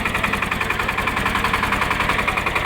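A Shifeng 240 single-cylinder mini tractor engine idles close by with a rapid, even, thumping pulse and a mechanical rattle, running steadily with no talk.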